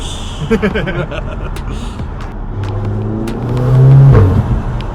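An Audi TT engine fitted with a performance intake drones and climbs in pitch as it accelerates, with voices talking over the start before the engine swells louder.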